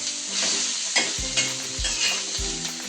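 Coriander, sesame seeds, cloves, green cardamom and cinnamon dry-roast in a pan with a soft crackling sizzle, and a spoon scrapes and stirs several times at close range.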